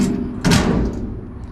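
Access door on the rear loader of a Pac-Mac 8-yard garbage truck swinging shut, one solid close with a brief metallic impact, heard near and alone.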